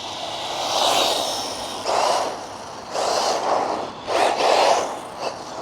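A Tamiya RC car with a torque-tuned motor and stock gearing drives past in repeated whining bursts, rising and fading as it passes close by, with no talk.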